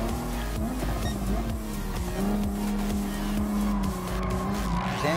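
A Toyota GR Supra race car in Gran Turismo Sport, its engine droning steadily with gear-shift pitch sweeps and continuous tire squeal through corners, loud and unbroken throughout.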